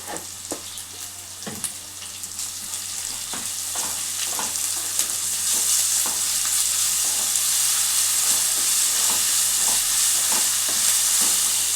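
Chickpeas frying in a pan with ginger-onion paste, a steady close sizzle with scraping stirs throughout, growing slightly louder after the first couple of seconds, no talking.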